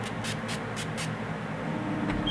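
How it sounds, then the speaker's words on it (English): A NYX Dewy Finish setting spray is pumped in about four quick, soft hissing bursts close by, each a short airy puff spaced evenly, fading into quiet room tone. "now I'm gonna be doing that NYX Dewy Finish setting spray"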